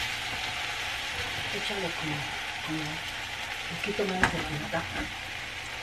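A mixture cooks down to a caramelized mush in a pan, giving a steady close sizzle with faint scattered crackles and a few stirring clinks, with no one talking.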